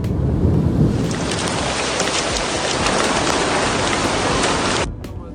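Heavy rain pours in a dense, loud, steady roar during a violent thunderstorm with hail in Saudi Arabia, then cuts off abruptly near the end.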